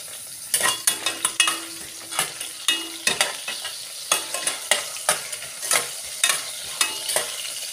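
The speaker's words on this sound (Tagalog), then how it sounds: "Banguhin natin ang kaunti ang luya." Ginger sizzles in hot vegetable oil in a frying pan. A steady frying hiss sits under rhythmic, close scraping strokes of the stirring utensil, with no talking.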